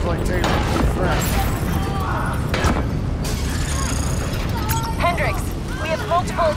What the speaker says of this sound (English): Hendrix, we have multiple explosions across the facility.